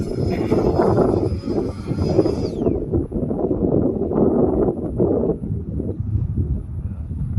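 A Freewing F-22 90mm electric ducted-fan RC jet making a low pass, its loud roaring whoosh surging and fading as a high whine drops away, mixed with gusty wind buffeting the microphone.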